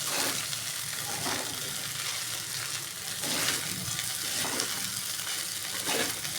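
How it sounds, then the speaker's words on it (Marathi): Sabudana khichdi with crushed peanuts sizzles steadily in a pan on high heat while being stirred, a continuous close frying hiss with scraping stir sounds and no talk. "छानपैकी आपल्याला आता हलवून घ्यायचं आहे."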